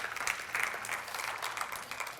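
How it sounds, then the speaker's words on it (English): Audience hand clapping at a motivational wealth seminar, a moderate wash of many hands that stays steady for a couple of seconds with no voices over it. "Come on, let's give him a hand clap."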